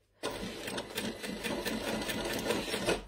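A domestic sewing machine starts abruptly and runs steadily, its needle knocking in a quick even rhythm as it topstitches over a first seam on a small fabric pouch, close and alone without talk.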